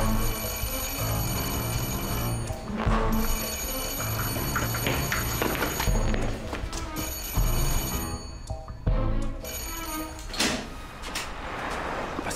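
A telephone rings repeatedly in a tense police drama scene, loud bursts of bell-like ringing over a busy background of noise and movement.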